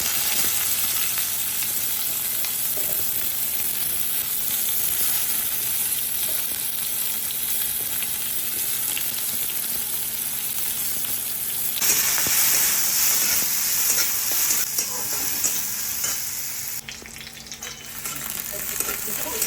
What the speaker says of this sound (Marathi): छान कांदा भाजून झाला आहे